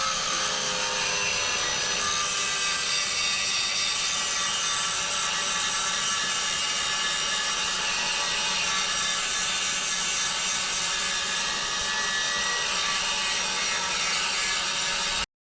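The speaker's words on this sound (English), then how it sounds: "So I'll grind that now" An angle grinder grinds down welds on a rotten Ford Sierra chassis leg, giving a loud, close, continuous abrasive whine that holds steady for the whole stretch with no pauses or voices.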